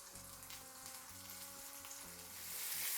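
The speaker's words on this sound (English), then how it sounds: "I'm flipping it over so we cook the other side too." Food frying in a pan as it is flipped over to cook the other side, a steady close sizzle with soft stirring and scraping, the sizzle swelling louder toward the end, no voices.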